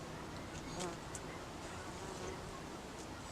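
Honeybees buzz steadily during a first hive inspection at an Alaskan rainforest hive, a faint, even drone with a few sharper passes near the microphone.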